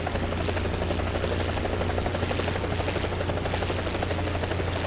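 Helicopter in War Thunder, a loud, continuous rotor thump with a low steady engine drone and rapid blade chop, close and unbroken, no voices.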